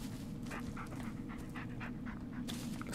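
A dog in the Blair Witch video game pants in quick, rhythmic breaths, close but fairly soft, over a low steady background hum.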